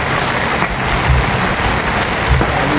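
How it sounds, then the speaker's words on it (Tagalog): Sudden heavy rain pours down at a building site where beams are being fitted, a loud, close, unbroken hiss of drops drumming on surfaces. "Kaso biglang umulan, kaya nagsitakbuhan kami pababa para hindi maabutan ng ulan."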